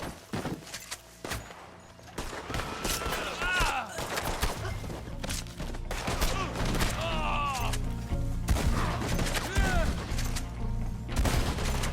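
Gunfire in Red Dead Redemption 2 online, a scattered exchange of sharp shots spread across the stretch, some close and some farther off, mixed with game sounds and occasional speech.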